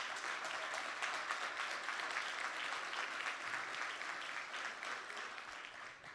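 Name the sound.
round of applause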